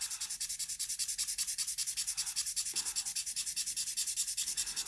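A Nitram HB charcoal stick is drawn across paper in quick, regular back-and-forth scratchy strokes, close and dry, steady rhythmic rubbing with no voice.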